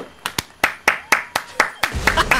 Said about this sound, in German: Da wird geklatscht.